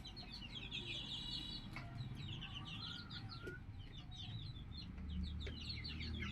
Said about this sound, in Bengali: আমি মুরগির ঘরে ঢুকলেই মুরগিগুলো আমার পায়ের কাছে চলে আসে খাবারের জন্য।